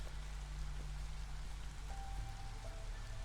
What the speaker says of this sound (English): it's raining all the time